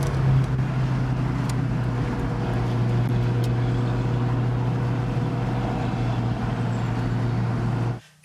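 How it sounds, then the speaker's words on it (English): A Mazda Miata fitted with a Goodwin Racing RoadsterSport 3 exhaust drones steadily while driving, a continuous low engine and exhaust note with road noise that ends abruptly. "That is the new exhaust fitted to the Miata."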